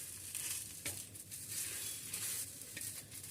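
A patishapta crepe cooks on a pan without oil, giving a steady close sizzle with faint scraping crackles, and no voices over it.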